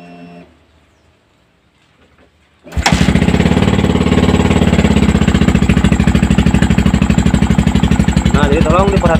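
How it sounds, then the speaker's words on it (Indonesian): A Yamaha Vixion motorcycle engine, with its radiator cap removed, starts after a quiet moment and then runs loud and steady with a fast, even pulsing beat to the end. "lalu kita coba nyalain motornya"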